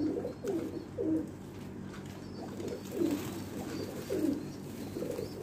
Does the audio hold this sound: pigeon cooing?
yes